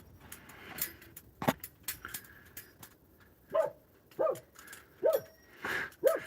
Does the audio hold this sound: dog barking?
yes